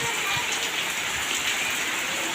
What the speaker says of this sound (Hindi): मूसलाधार और शानदार बारिश हो रही है